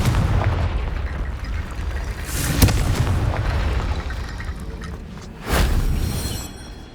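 A Confringo explosive spell in Hogwarts Legacy fires off with loud booming blasts, one sharp burst followed later by another thudding explosion over a dense rumbling game soundscape.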